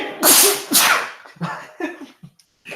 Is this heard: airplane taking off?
no